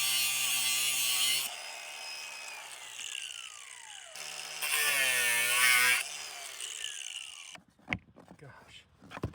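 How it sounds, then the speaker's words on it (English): A power tool cuts off a seized nut, with two sustained, loud, whining grinding passes separated by a brief drop, ending in scattered clanks and handling noise. "I'm gonna cut this nut off"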